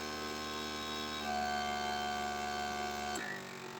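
A vacuum sealer pulls air from a bag of packaged pork, a steady motorized hum that shifts pitch partway through and then cuts off near the end, with no voices.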